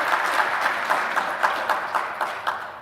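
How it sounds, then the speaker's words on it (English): An audience applauds local healthcare heroes at a Portsmouth State of the City chamber event, a soft continuous wash of clapping with a few louder regular claps standing out. "Please join me in giving our local healthcare heroes a round of applause"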